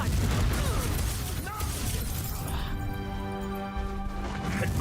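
A Confringo fire spell blast explodes in Hogwarts Legacy combat, a loud crashing burst amid dense, continuous battle noise with ringing tonal effects afterward.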